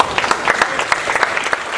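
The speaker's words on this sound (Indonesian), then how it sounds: "Tepuk tangan dulu dong." Audience applause at a stand-up comedy show, a dense burst of clapping from a crowd that stays steady and fairly loud throughout.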